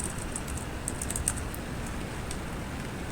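Keys tapped on a computer keyboard while entering HTML table code, a light scatter of soft clicks over a steady hiss, faint and fairly close, with no talking.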